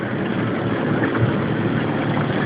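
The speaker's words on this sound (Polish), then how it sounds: "Motorówka." Motorboat engine out on a lake, a steady distant drone heard with wind noise, constant and moderately loud for a few seconds without speech.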